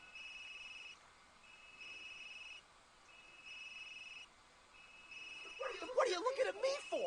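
A phone rings after a number is dialled, heard as a faint ringback: three or four evenly spaced electronic ring bursts with short gaps, then voices start talking near the end.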